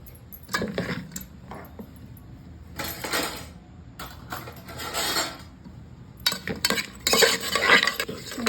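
A spoon stirs a pot of Telugu-style vattitunakalu curry, giving intermittent scraping and clinking bursts at close range with short pauses between them and no talking.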